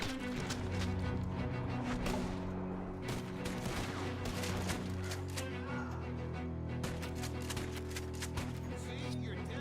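Repeated gunfire in the video game Red Dead Redemption 2, rapid overlapping shots in a continuous volley over a steady low drone, with scattered impacts throughout.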